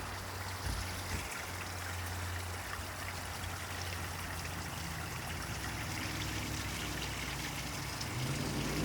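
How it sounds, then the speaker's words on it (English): A small mini creek along a trail trickles steadily and softly, a continuous close water babble with no voices over it. "So it's just a little mini creek."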